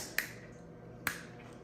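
Two crisp metallic clicks about a second apart as the tab of a cold premium cocktail can snaps and pops open, close up in a quiet room.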